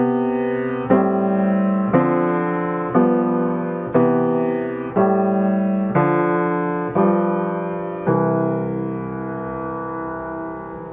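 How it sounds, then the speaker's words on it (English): Sparse piano shell-voicing chords struck one per second through a repeating I-vi-ii-V progression, each ringing and slowly fading, before a final held chord decays. "Or maybe with some simple shell voicings, it would sound like this."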